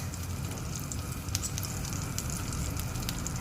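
Curry leaves sizzle in hot oil in a pan while garlic curry is being cooked, giving a steady close crackling hiss with small sputtering pops throughout.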